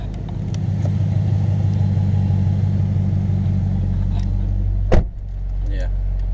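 A Dodge Charger's engine idles with a steady low rumble, joined by a brief sharp clunk near the end before the idle settles back.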